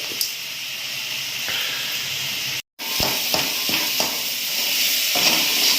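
Tomatoes salted and softening in a frying pan for a fish egg fry curry give a steady, close sizzling hiss. It breaks off briefly in a short gap, then returns with soft stirring knocks.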